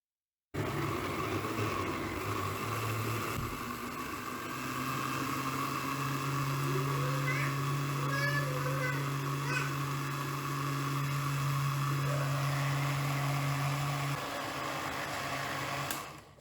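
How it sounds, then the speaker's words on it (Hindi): A kitchen blender grinds mango with condensed milk into a smooth puree, a steady loud motor whir running nearly continuously for about fifteen seconds with a slight shift in pitch partway through. "अभी हम इसको बहुत अच्छे से ग्राइंड कर लेंगे और बहुत ही अच्छी सी प्योरी हम तैयार कर लेंगे"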